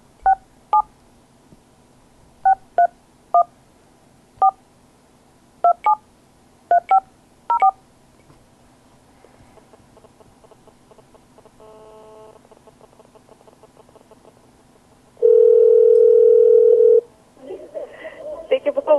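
A telephone number is dialed as a sequence of sharp, separated keypad tones. A tonal buzzing pattern follows, then a loud, steady dial tone, and after it a clatter of other sounds.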